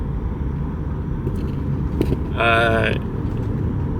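A car cruising along a road in Mexico through a monarch butterfly area, giving a continuous low rumble of engine and tyres from inside the cabin, broken by a short squeaky tonal sound near the end.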